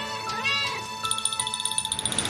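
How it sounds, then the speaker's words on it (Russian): Kittens meowing in a series of rapid, high-pitched mews, close and fairly loud, following a brief higher cry at the start; a cartoon-like setting with light music beneath. "Там котята, смотри!"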